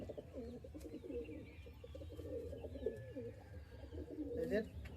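Pigeons coo in a loft among young birds kept for sale, a steady low burbling that runs through the whole stretch, with other bird sounds and faint background noise around it.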